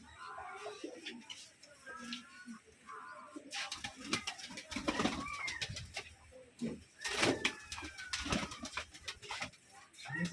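Pigeons in a loft on a farm in Rajshahi coo softly and intermittently, mixed with wing flutters and scuffling, while someone talks nearby.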